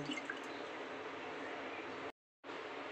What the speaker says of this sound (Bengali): আমাদের গোবিন্দভোগ চালটা ভালো করে ধোয়া হয়ে গেছে